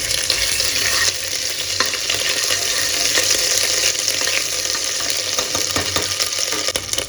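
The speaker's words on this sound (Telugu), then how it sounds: "కొంచెం అల్లం వెల్లుల్లి పేస్ట్ వేస్తాను." Ginger-garlic paste frying and sizzling in a pot for village-style spicy mutton soup, a steady loud hiss with occasional stirring clicks throughout, no talking.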